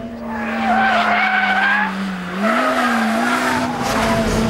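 A naturally aspirated car engine without turbo or supercharger sings a loud, steady note close by, briefly dipping, then climbing again as it revs hard toward its 8,200 RPM redline.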